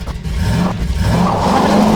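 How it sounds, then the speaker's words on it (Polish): A fast custom car in Garry's Mod revving hard, a loud, steady engine roar that rises slightly in pitch throughout. "Dałem wam teraz najszybsze auto, jakie stworzyłem w Garry's Modzie"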